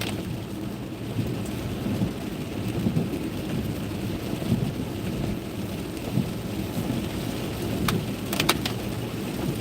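Mixed rain and snow falling near SeaTac in Washington, a steady soft hiss of precipitation with low rumbling background, faint and continuous, with a few brief sharp clicks near the end.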